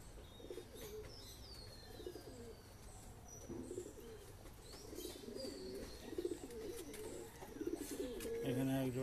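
Shahjahanpuri pigeons, a black-green pair, coo in a loft in rolling overlapping calls close by, with occasional chirps and a wing flutter, quiet overall.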